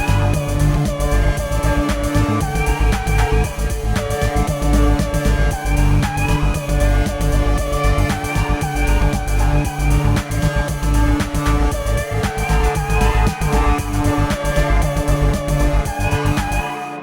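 A Splice vocal sample, transposed and played back on a Deluge, sits inside a dense, loud electronic mix with a continuous thick low end and busy texture that runs steadily for the whole stretch, with no talking.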